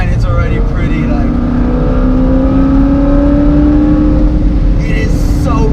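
A 730 HP rear-wheel-drive Corvette engine revs and pulls hard under acceleration, a loud, steady roar that climbs in pitch inside the cabin while occupants talk over it.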